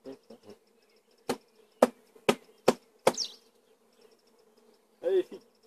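Bees from a swarm being moved to a new hive give a low buzz, with several sharp knocks from handling the hive. Voices come and go nearby.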